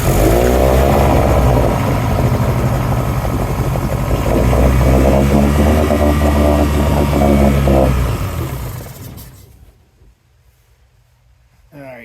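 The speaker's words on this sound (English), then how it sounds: "We're going to pull that choke out a little bit there. Give him some about half throttle." 2006 Mercury 15 HP outboard motor at about half throttle with the choke partly out, a loud steady engine drone close by that fades and cuts out near the end.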